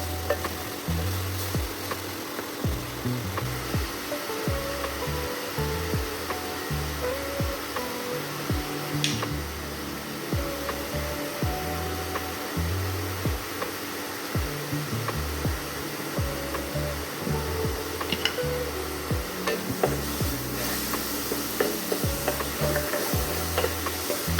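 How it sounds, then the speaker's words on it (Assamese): Cucumber pieces fry with panch phoron five-spice in a hot wok, giving a steady, dense sizzle that runs without a break and rises slightly near the end, with no talk. "এতিয়া কেৰাহীটোত পাঁচফোৰণ দিলোঁ এয়া পাঁচফোৰণৰ গোন্ধ ওলোৱাৰ লগে লগে তিহুখিনি দি দিলোঁ"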